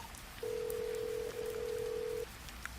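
A telephone ring or dial tone sound effect plays as one steady, clean tone lasting nearly two seconds over faint background hiss, close and moderately loud.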